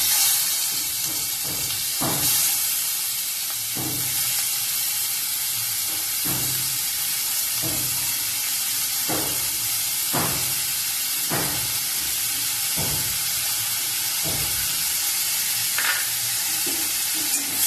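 Chopped onion, carrot, tomato, chilli and ginger frying with salt and turmeric, a loud constant sizzling hiss with a spatula scraping the pan every second or two.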